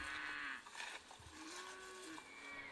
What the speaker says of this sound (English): Although it sits beside a working cattle farm, the CL remained peaceful throughout, with only the occasional moo from the residents.